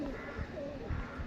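A Bandhdum pigeon at a pigeon sale coos in low, soft bursts, close by, over a steady murmur of background noise.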